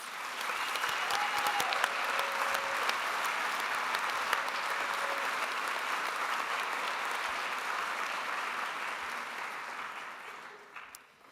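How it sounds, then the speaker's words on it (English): A large audience at a university commencement ceremony applauds continuously for about ten seconds, the dense clapping slowly thinning and fading toward the end. "all of you another round of applause"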